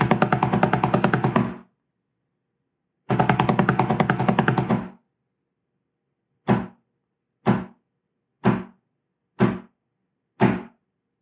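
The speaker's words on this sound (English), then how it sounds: "So for the orderly sergeants and orderly corporals, there'll be 2 rolls and then 5 strokes." Historic British military drum call for orderly sergeants and corporals: two rolls of about one and a half seconds, separated by a rest, then five slow, evenly spaced single strokes, played crisply and close.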